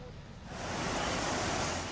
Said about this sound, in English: Bridges collapsed into roaring rivers